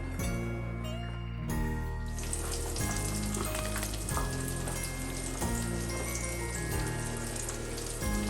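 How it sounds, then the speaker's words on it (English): Panko-coated, seasoned eggplant slices dipped in egg sizzle and crackle steadily in hot olive oil, a loud continuous frying hiss with patter like rain and no talking. "we're frying it in olive oil"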